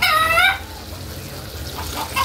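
A rooster crows loudly at the start, then chickens cluck faintly in the background over a low steady rumble.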